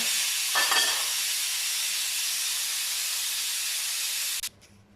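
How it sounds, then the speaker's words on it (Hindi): Steam hisses loudly and steadily from a pressure cooker as its weight is lifted after cooking mutton korma, a close continuous spray that cuts off abruptly near the end, leaving a faint quiet tail. "चूल्हा बंद करते हैं और वेट को उठा देते हैं।"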